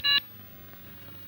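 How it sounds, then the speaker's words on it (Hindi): A telephone being dialled to reach the police commissioner gives one short, bright electronic beep near the start, followed by a faint hum and quiet room tone. "अभी फोन कर देता हूँ पुलिस कमिश्नर को"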